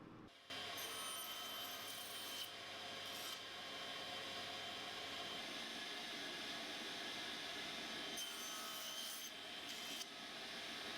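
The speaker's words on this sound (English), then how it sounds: "I set up the stop block on the mitre gauge and then I can start cutting the pieces" A table saw cuts wooden pieces to length against a stop block on the mitre gauge, its steady loud whine and rasp running almost continuously with brief dips between cuts.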